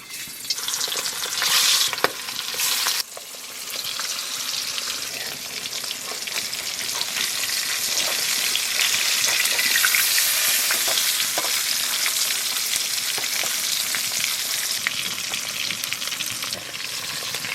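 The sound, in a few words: pangasius fish pieces frying in oil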